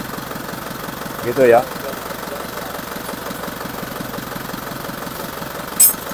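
An Isuzu Panther engine idles at a steady, close drone with its revs wavering, and a couple of brief louder bursts stand out. Someone speaks briefly over the engine.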